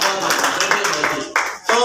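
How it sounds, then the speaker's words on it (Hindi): Audience applause for a guest at an RCM leaders' welcome gathering, dense steady clapping from a crowd throughout, briefly dipping near the end before resuming. "एक बार बाबूजी के लिए ताली बजा दीजिए।"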